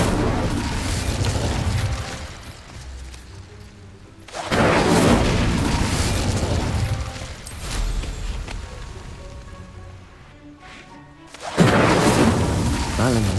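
An Incendio fire spell is cast in the Hogwarts Legacy video game, producing loud whooshing bursts and booming blasts that recur in surges amid the game's background sound.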